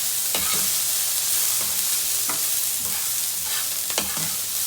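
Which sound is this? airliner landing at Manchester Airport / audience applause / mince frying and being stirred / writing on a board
mince frying and being stirred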